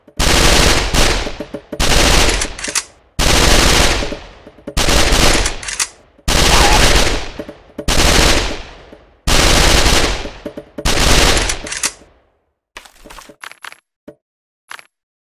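Repeated loud bursts of gunfire ring out at a shooting range in the Kick the Buddy game, seven roughly one-second volleys with short gaps between them, followed by a few faint scattered clicks.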